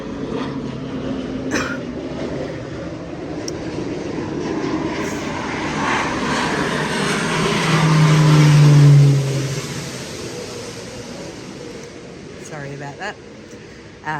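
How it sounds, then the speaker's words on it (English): Aircraft engines drone overhead and swell to a loud peak as they pass, then fade, outdoors on a farm. A person talks quietly underneath. "I'm just going to wait for these planes to fly over"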